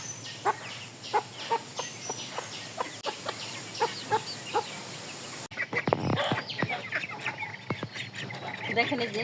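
Ducks and chickens in a farm pen quack and cluck in a run of repeated calls, close and fairly loud, with a voice speaking over the birds.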